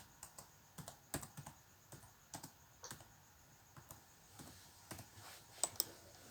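Typing on a computer keyboard: soft, quick clicks and taps come in short irregular bursts, close by and quiet against a hushed room.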